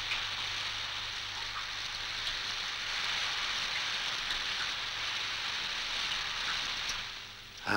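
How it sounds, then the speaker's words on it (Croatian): Rain falls steadily under wind, a dense even hiss that holds from start to end and fades slightly just before it stops, with no voices. "Pusto ti je kad plešu sami, kiša s vitrom, vitar s kišom."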